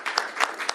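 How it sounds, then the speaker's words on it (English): Applause at a governor's bill signing, a short burst of close claps with a few sharper, louder hand strikes standing out in the brief moment. "Please give a round of applause for Representative Salahudin for his importa"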